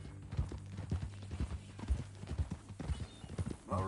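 A horse's hooves clip-clopping in a video game, steady close rhythmic hoofbeats at a walk under game ambience, ending with a short snort or whinny-like burst.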